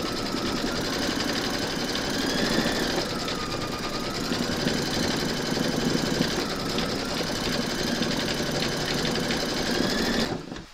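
An embroidery machine stitches a skeleton applique design, its needle chattering in a fast, even, close-up rhythm that continues unbroken for about ten seconds before stopping abruptly.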